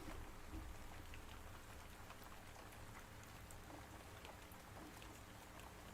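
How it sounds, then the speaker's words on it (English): Soothing recorded rain falls steadily, pattering on clay jars in a dense, even wash of drops, soft and continuous with no distinct thunder clap standing out. "it's soothing rain sounds and hitting clay jars with distinct thunder"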